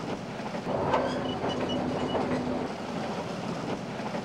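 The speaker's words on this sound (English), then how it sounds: "Back on the train, we cross the King River via the now fully restored Iron Bridge" A train crosses the restored Iron Bridge over the King River at Tupukina, rolling along with rhythmic clickety-clack from its wheels and a faint metallic squeal, moderately loud and continuous.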